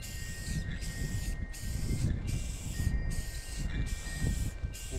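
Steady hiss of a nearly empty spray paint can, broken by short gaps every second or so, close to the microphone with no talking.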